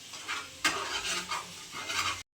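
Paneer butter masala base frying in ghee in a pan, loud close sizzle with repeated stirring and scraping strokes in bursts, no talking, cutting off abruptly at the end.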